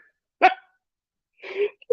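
A puppy barks once sharply, then gives a softer whining bark-like sound and a short yip, close and fairly loud, separated by silence in a home.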